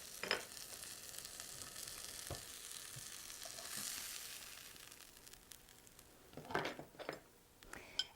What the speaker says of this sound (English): I'm going to make a patty of the sausage. I'm going to cook it and test the flavor.